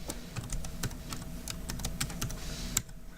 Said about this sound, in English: I just typed in my password.